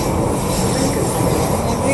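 Crowded passenger train ride in the UK on a Saturday, a loud steady rumble and roar of the carriage in motion throughout, with a muffled murmur of passengers.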